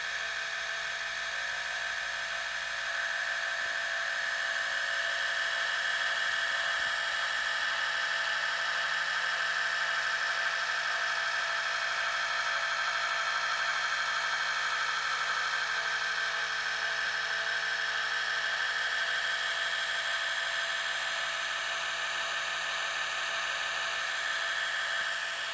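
A lubricated Gakken Premium gramophone runs with a steady, even mechanical whir that stays constant and fairly loud throughout, with no voices over it.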